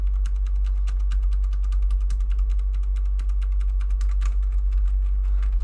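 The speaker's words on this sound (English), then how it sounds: "That's actually a mechanical keyboard" Rapid clicking from an Atrix mechanical keyboard, fast continuous keystrokes close by over a steady low hum, with no voices.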